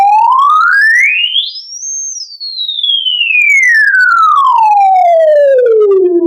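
A speaker's high-frequency unit plays a pure sine test tone that sweeps steadily upward to a very high pitch, then glides back down over several seconds, loud and clean with no other sound.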